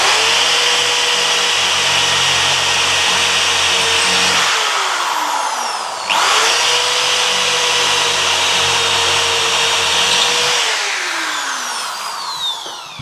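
Power drill boring full-depth pilot holes into reclaimed oak planter boards, two long steady bursts of whining motor and grinding bit, each winding down before a brief pause, close and loud with no talk.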